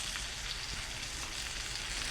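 Beef burgers sizzle steadily on a Buddy Burner in a backyard, a dense, continuous frying hiss close by with no talking.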